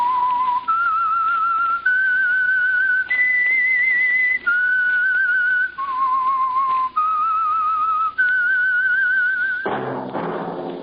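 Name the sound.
whistled signal tune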